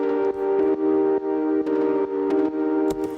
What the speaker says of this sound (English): every time the chords note changes, you hear this little kind of delay slap thing happening